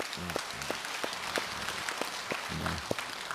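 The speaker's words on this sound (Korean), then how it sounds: "아유, 박수, 박수." An audience at a Buddhist monk's question-and-answer talk claps. The applause is light and scattered, a few distinct claps over a soft murmur of voices.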